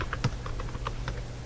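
Quick, light keystrokes tap out a search on a computer keyboard, a brief run of close clicks over a constant low background hum.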